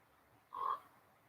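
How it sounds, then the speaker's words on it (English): A single croak from a crow or raven, one brief harsh call of about a quarter second, faint and distant, high up, against a quiet outdoor background. "it sounds like croaking, but it's a blackbird. It's some kind of crow or something."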